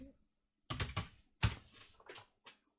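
Keys tapped on a computer keyboard while entering a ROM file name for a Dragon 32 emulator, a few short bursts of clicking close up with brief gaps between them.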